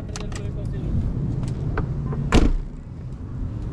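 A car door is shut outdoors in Italy as a storm approaches. A single solid thud lands near the end, after lighter clicks and handling noises over a low background rumble.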